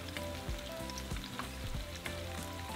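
Taquitos, rolled shredded beef tacos, frying in hot oil, a faint, steady bubbling sizzle with a few soft knocks as they are lifted out, no talking.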